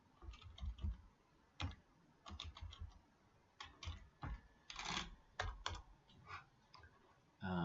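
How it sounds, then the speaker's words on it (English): Computer keyboard keys tap in quick irregular clusters as data is entered into a form, close and fairly quiet with brief pauses between runs. "when we type the data in here"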